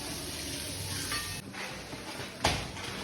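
Sweet corn sizzles and hisses as it fries in a pan for makai chevda, with steady stirring and a couple of sharper scrapes of the utensil against the pan.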